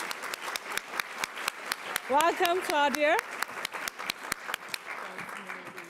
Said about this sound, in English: a nice warm round of applause